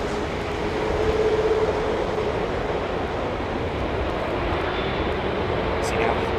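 A steady, loud, broad roar from jet airliner engines at London Heathrow Airport, with an American jet among the traffic. The roar continues without a break throughout.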